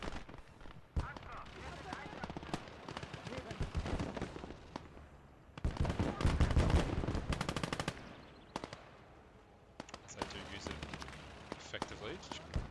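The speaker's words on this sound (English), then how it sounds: "Those 2 centimeter auto cannons the Germans had in World War II, pretty epic." Bursts of 2 cm autocannon fire from German World War II vehicles in the Gates of Hell strategy game, rapid repeated shots loudest in a dense middle stretch and lighter elsewhere, layered with battle noise and ongoing talk.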